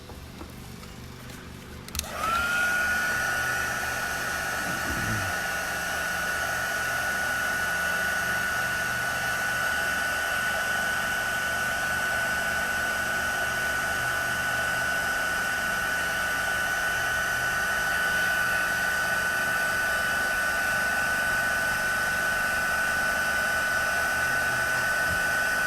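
A hair dryer switches on after a brief moment and runs loudly and steadily while drying a watercolor painting, holding a constant whirring hum with a fixed high tone until the end.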